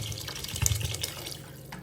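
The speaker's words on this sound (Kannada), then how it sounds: "ಈಗ ನಾನಿಲ್ಲಿ ನೀರನ್ನ ಹಾಕ್ಕೊಳ್ತಾ ಇದ್ದೀನಿ" Water poured into a pot of lentil and vegetable sambar makes a steady, soft splashing stream that swells a little midway and runs for under two seconds, with no voices.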